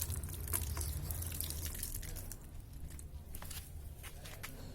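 A tap runs faintly and steadily as eyeglasses are rinsed under it, with light patter and drips scattered over the soft flow.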